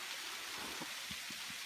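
Kiernans Falls in Tasmania runs low after weeks of little rain, giving a faint, steady wash of trickling water with a few soft low splashes and no voices.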